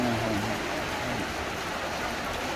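Steady rain falls outdoors during a meal of Thai rice noodles, a loud continuous hiss of drops spattering on surfaces, with a faint voice briefly audible at the start.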